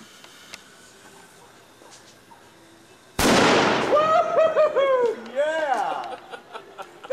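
A firework detonates inside a baseball piggy bank outdoors, a sudden loud blast with crackling burst after a quiet lead-in, followed by excited laughing and shouting voices.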